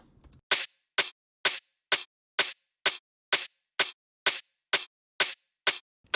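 Crisp electronic techno hi-hat hits repeat in a steady, even rhythm, about two per second, sharp and bright with nothing else playing.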